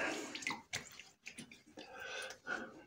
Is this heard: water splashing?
yes